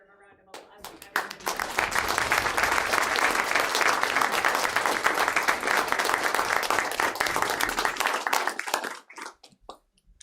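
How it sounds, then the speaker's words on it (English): Audience at a school board meeting bursts into applause for students, a loud sustained round of clapping that starts abruptly, holds for several seconds and tapers to scattered claps, with voices underneath. "I think you guys deserve a round of applause."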